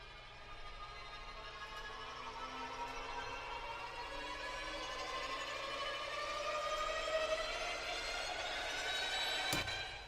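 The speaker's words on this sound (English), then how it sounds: "So we're using the glissando on the slow and ponticello." Synchron FX Strings from VSL play a slow ponticello string glissando, a glassy, airy layer of sliding pitches that rise steadily over ten seconds, quiet and tense, ending with a brief knock.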